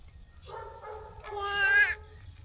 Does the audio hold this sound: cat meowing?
yes